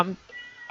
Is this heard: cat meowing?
yes